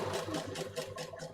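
Sewing machine stitching a child's jacket, running rough and uneven: a steady, loud mechanical whir with a rhythmic chatter of about five or six pulses, close up and with no talk.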